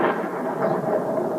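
A lightning strike's thunder in Night of the Living Dead: a loud, dense rumbling roll that stays steady and close for the whole short stretch, with no voices over it.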